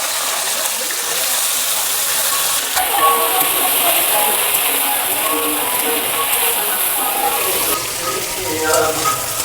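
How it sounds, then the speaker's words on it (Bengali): Yardlong beans frying in mustard oil in a wok, a loud, close, continuous sizzling hiss that holds steady throughout. "আমি বরবটিটাকে আগে ভেজে নেব।"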